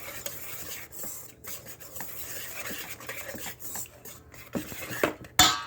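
Flour and baking powder being mixed in a bowl for funnel cake, with soft scraping and rubbing strokes and occasional light clinks of utensil against the bowl, quiet and close.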